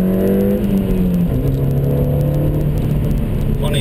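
A turbocharged Ford Fiesta ST engine pulls hard and steadily, its drone climbing in pitch through a gear, loud and close with a continuous whir over it.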